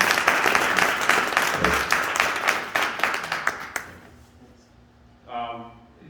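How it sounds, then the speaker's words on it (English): Audience applause at a presentation, a burst of many hands clapping for about four seconds before fading out, then a speaker's voice begins over a quiet room. "You really deserve a round of applause."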